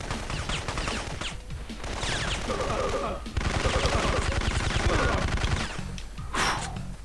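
Sniper gunfire in the video game Syphon Filter: rapid, repeated gunshots in a steady rhythm over dense game sound effects and background music, moderately loud with no speech.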